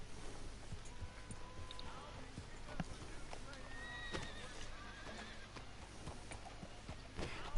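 Horse hooves clip-clop and a horse whinnies in the video game Red Dead Redemption 2, set against a steady ambient bed with faint talk underneath; the neigh stands out briefly near the middle.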